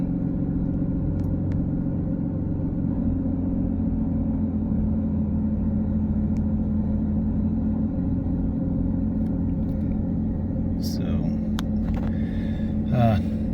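An Aston Martin DB11 V12 idles smoothly after a spark plug replacement, a steady low rumble heard close and unbroken, with brief faint clicks and a voice near the end.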